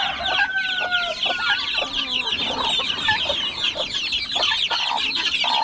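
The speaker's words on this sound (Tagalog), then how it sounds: "May sisiyo po tayo dito ng manok." Several young chickens cluck and chatter close by, a busy overlapping flock with occasional higher squawks and no talking.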